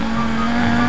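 In GTA 5 Online, a person imitates a car engine with a steady, loud droning vocal hum that holds one pitch throughout, accompanied by faint background game noise.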